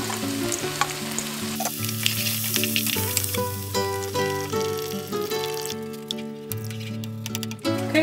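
Chickpeas, onions and garlic sizzle loudly and steadily in a frying pan, with stirring noises and a bright crackle throughout, while music plays underneath.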